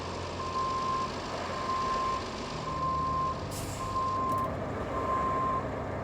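A crane truck in the game RoadCraft backing down a slope, five evenly spaced reversing beeps over a steady diesel engine drone, with a short hiss of air partway through.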